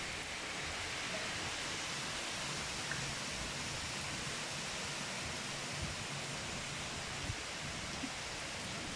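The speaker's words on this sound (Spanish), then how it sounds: "Por la fuerte lluvia y el aire." Heavy rain and wind from Hurricane Dolores in a hotel zone: a steady, dense roar of rainfall and gusting air that never lets up, with no voices.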